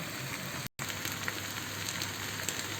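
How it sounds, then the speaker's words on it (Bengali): Shrimp and potato pieces frying in an oil-filled pan, a steady dense crackling sizzle throughout, close and even, with a brief dropout partway through. "এইভাবে আমি কিছুক্ষণ ভেজে নেব জাস্ট কালারটা চেঞ্জ করব মাছের কালারটা চেঞ্জ হওয়া পর্যন্ত"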